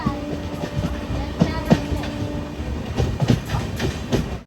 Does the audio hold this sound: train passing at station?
yes